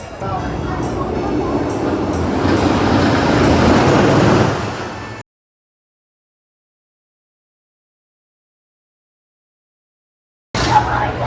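The Voyage roller coaster train at Holiday World rumbles loudly along its track, the roar building for several seconds before cutting to silence, then returning abruptly, with voices mixed in.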